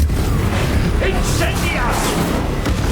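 Spell explosions and combat booms in Hogwarts Legacy, a dense loud rumble with repeated thuds, whooshes and bursts layered together, with a voice shouting over the action.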